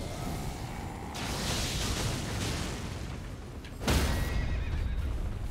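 A horse whinnies in the Elden Ring video game, a long neigh over a low ambient game backdrop, followed by a sudden heavy impact or blast near the end, with no talking.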